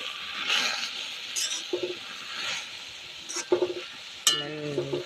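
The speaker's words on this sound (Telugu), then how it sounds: "మెంతాకు సరిపడంత ఉప్పు వేసి మొత్తం మంచిగా వేయించాలి" Fenugreek leaves and fresh pigeon peas fry in a pan with salt, giving a soft, steady sizzle while a spoon scrapes and stirs in irregular clicks and knocks.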